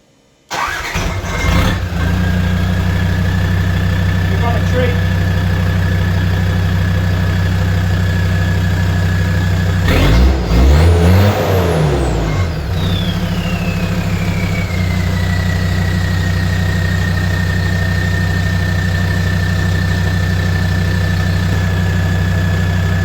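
A Land Rover Defender 130 with a TD5 diesel engine cranks and starts, then settles into a loud, steady idle, with a rising rev partway through before dropping back to a constant rumble.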